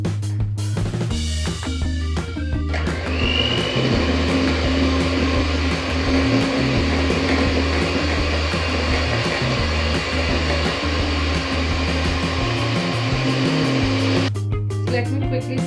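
An electric mixer beats vanilla sponge cake batter with vanilla powder and flour. Its loud, steady motor whir runs for over ten seconds between brief starts and stops.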